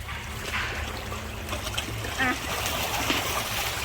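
Albino striped catfish splash and churn at the water surface while being fed at a temple in Nonthaburi, Thailand, a steady watery splatter under people talking nearby.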